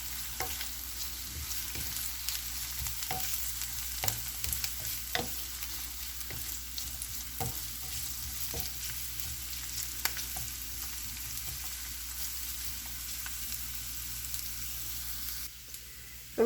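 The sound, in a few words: stirring lightly fried onion and carrot in a pan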